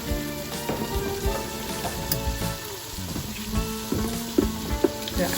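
Vegetables sauté in a pot for Arabic yellow rice, a close, steady sizzle with scattered crackles and a few sharp taps, the spoon or pot clinking now and then over ongoing background hum.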